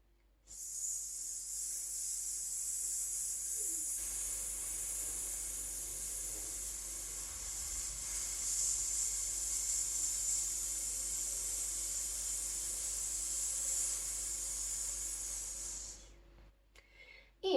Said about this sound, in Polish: sycząc wydychamy to powietrze